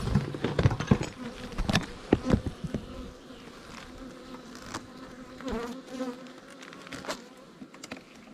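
Honeybees buzz around open beehive frames, a steady close hum of many insects mixed with knocks and clatter of the frames being handled.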